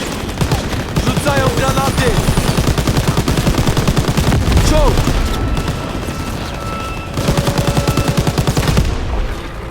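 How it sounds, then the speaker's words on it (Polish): Rapid bursts of automatic gunfire in Call of Duty WW2 during an armored train mission, dense and loud throughout with brief pauses and short voice fragments. "Strzelaj dalej!"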